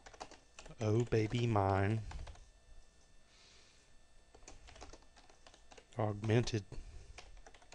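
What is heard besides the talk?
typing on a computer keyboard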